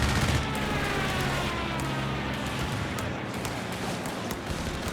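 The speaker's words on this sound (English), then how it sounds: "Comes the Axis strafe." Dense battlefield gunfire from an Axis strafing run in Company of Heroes 3, a 3v3 match: a steady, loud wash of rapid shots and rumbling bursts running the whole time with no pauses.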